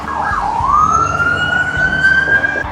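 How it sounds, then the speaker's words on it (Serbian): A loud, close siren wails in a long rising sweep over the rumble of morning city traffic in Chicago. "napolju je već tipičan američki saobraćaj. Sirene,"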